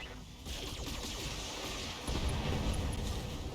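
LBX autocannon scatter shots in BattleTech, a dense continuous rattle of impacts and blasts that swells louder partway through, with no voices.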